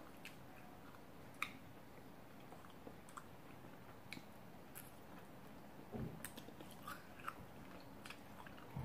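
Scattered crisp crunches and bites, sharp and irregular over a quiet background, of someone chewing a crunchy fried tapioca snack.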